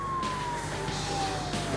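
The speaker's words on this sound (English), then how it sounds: "With cube call, I am calling the ambulance." An ambulance siren from an emergency-services video game wails steadily with a slowly falling tone, mixed with vehicle rumble, moderately loud and brief.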